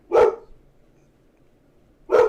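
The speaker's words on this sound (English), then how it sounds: "My fucking dog is freaking out." A dog indoors gives two loud, close barks about two seconds apart, with near silence between them.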